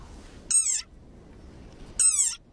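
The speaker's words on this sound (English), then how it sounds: "Like this desert rain frog. Squeaking viral sensation." A desert rain frog gives two short, high-pitched squeaks about a second and a half apart, each sharp and close, with near silence between them.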